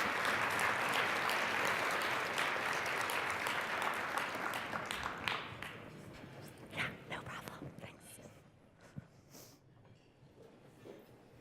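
Applause for the keynote speaker at a women in analytics conference rises full and dense, then thins into scattered claps and murmuring voices as it dies away.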